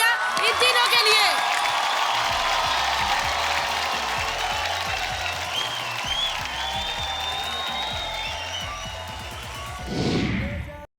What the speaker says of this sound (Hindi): एक बार जोरदार तालियां इन तीनों के लिए